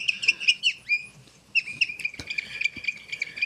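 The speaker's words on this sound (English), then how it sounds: "What you're supposed to do is twirl it in the air, and then you get a lovely, quite chaotic bird sound." A Japanese folk toy whistle twirled through the air gives bright, chaotic bird-like chirps and warbling trills in quick bursts, with a short pause before the chirping resumes, fairly close and clear over near silence.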